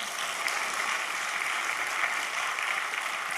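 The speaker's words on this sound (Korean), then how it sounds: "박수 쳐주세요." Audience applause in a church evangelism lecture hall, a steady dense wash of clapping from many hands, sustained and even throughout with no speech over it.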